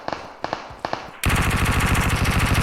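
Rapid video-game gunfire: a few separate single shots, then a loud, sustained burst of automatic machine-gun fire, close and dense, with no talk over it.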